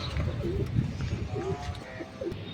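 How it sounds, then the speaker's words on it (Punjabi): Pigeons coo nearby in low, soft repeated calls, a few overlapping, over light background rustle. "ਬਾਕੀ ਕਬੂਤਰ ਆਪਣੇ ਉੜਦੇ ਆ"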